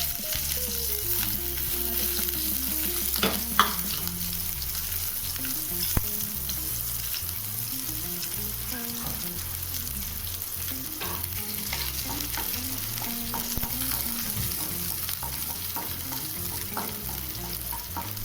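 Finely chopped garlic, ginger and green chili sautéing in a little hot oil, a loud continuous sizzle with repeated stirring scrapes throughout, no voices.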